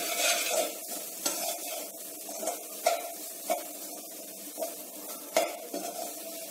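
Grated coconut roasting over a slow flame for Tenkasi-style coconut podi, stirred in a pan with a soft continuous sizzle and regular scraping strokes of the spoon every second or so, no talking.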